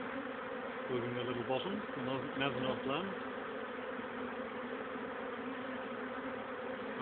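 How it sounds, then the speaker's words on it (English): Honey bee swarm arriving around a beekeeper, a steady dense insect buzz filling the whole stretch close by, with a person talking briefly over it early on. "I'm absolutely surrounded and covered in bees"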